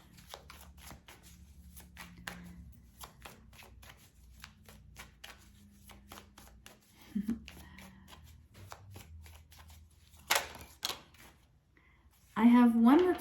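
Handmade tarot-style cards with keywords written on blank cards being shuffled, a rapid, soft riffling patter of card edges up close, running under a quiet speaking voice, with a few louder knocks near the end.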